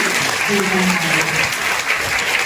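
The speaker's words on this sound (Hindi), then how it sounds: "आपके स्वागत में हम सब बजाते हैं जोरदार ताली" Loud, sustained welcoming applause from an audience at a Brahma Kumaris spiritual gathering on the Bhagavad Gita in Narela, a thick continuous wash of clapping with a faint murmur of voices underneath.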